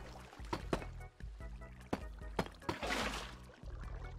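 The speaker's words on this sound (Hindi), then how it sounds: "चलो अभी पानी डालते हैं।" Water being poured in the video game Minecraft, a short splashing and flowing burst over a low steady game hum, with several sharp clicks around it and no talking.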